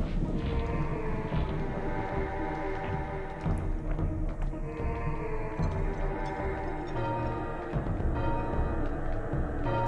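In the PlayStation game Legacy of Kain: Soul Reaver, a large bell tolls with deep resonant strikes at regular intervals, each ringing out and decaying over an ambient game soundtrack.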